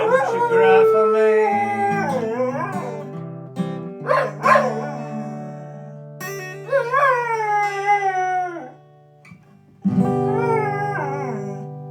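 A dog howls along to a sung song, long wavering howls with short yips rising and falling over sustained accompaniment, close and fairly loud, with a person singing in between.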